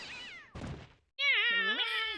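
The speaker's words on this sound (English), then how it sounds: "Meow. Meow. Meow." A cat in The Great Ace Attorney Chronicles gives a descending meow, a short thump, then a longer wavering meow, close and clear with no talking.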